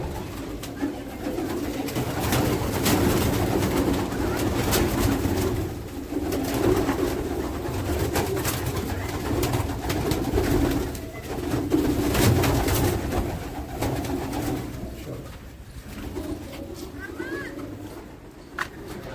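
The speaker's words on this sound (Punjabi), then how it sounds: "ਆਹ ਕਬੂਤਰ ਜੀ ਸਣੀ ਨੂੰ ਬਹੁਤ ਪਸੰਦ ਆ" Pigeons coo repeatedly at close range in a soft, throaty, rolling rhythm, while people talk in the background throughout.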